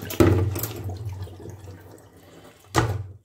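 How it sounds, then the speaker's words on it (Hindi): Water is poured over freshly washed mint leaves in a sieve, splashing loudly at the start, trickling softly, then gushing again near the end. "ऊपर से और पानी डाल देंगे।"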